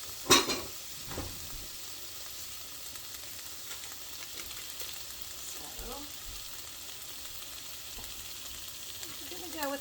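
Food sizzling in a pan of butter and olive oil, a constant soft crackle and hiss with a sharp clatter near the start and a few quiet utensil scrapes, no talking.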